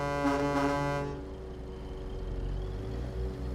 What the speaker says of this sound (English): And we're going to honk our horn.